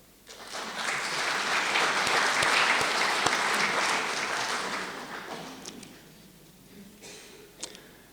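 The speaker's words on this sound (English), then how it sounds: "They deserve applaud." An audience at a university president's annual report applauds in a broad swell that builds quickly, holds for about five seconds, then thins out into a few scattered claps.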